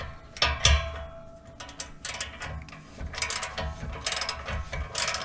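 A ratchet loosens a muffler exhaust clamp under a car, giving rapid, close metallic clicking in uneven bursts that goes on throughout.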